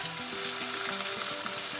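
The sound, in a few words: chili paste frying and being stirred in a wok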